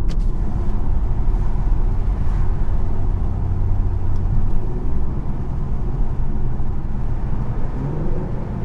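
Infiniti Q50 car driving on damp roads, a steady low engine and road rumble heard from inside the cabin, continuous and fairly loud throughout.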